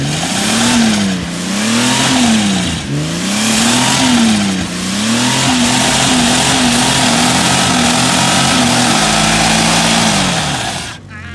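A Jeep engine, one fitted with flat tyres, revs up and down repeatedly in rising and falling surges, then holds a steady high drone before cutting off, loud and close with people talking.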